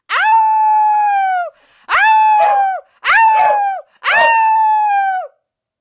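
A dog howls four times in a row close by, long sustained wavering tones separated by short pauses, loud and alone with no talking.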